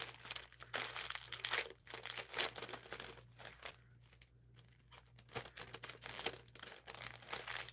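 Wrapping paper is balled up by hand in bursts of crisp crinkling and crushing, loud and close, with short pauses between handfuls and a faint low hum underneath.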